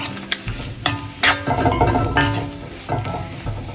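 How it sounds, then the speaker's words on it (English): A spoon scrapes and pushes mashed raw plantain mixed with coconut around a hot pan, giving close, irregular stirring scrapes over a soft sizzle. "So finally I'm going to add some coconut. Mix them well."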